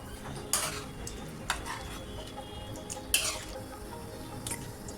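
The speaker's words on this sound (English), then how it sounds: "Keep the flame at medium and mix everything well till all the ingredients are incorporated nicely." Chickpea masala mixed in a pan over a medium flame: a soft sizzle runs throughout, broken by a few sharp spoon scrapes and clicks against the metal pan.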